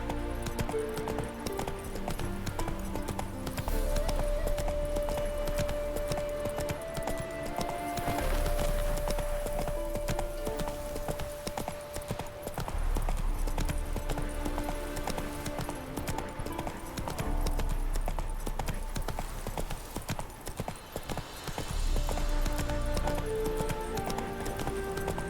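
Roach the horse galloping in The Witcher 3, a steady rhythm of clip-clopping hooves that continues throughout under a layer of game music.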